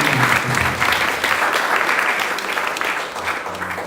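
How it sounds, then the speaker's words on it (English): Steady applause from an audience, sustained clapping at an even volume throughout with no voices standing out. "please give them a big round of applause"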